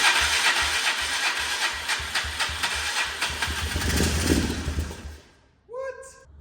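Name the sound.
Polaris four wheeler quad engine starting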